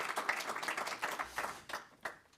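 Scattered clapping from a small audience at an event marking a 100% sustainable aviation fuel flight, moderately close, uneven and thinning out toward the end.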